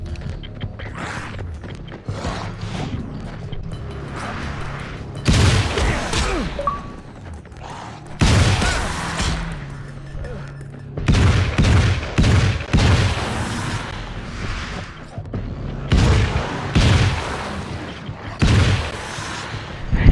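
Gunfire in the video game Alan Wake's American Nightmare: heavy shotgun-like blasts in loud irregular bursts, separated by mechanical clicks and creaks of reloading and scattered thuds.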